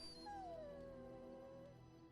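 A dog companion in a fantasy role-playing video game gives a drawn-out whimpering howl that slides downward in pitch, faint and alone with no talk over it.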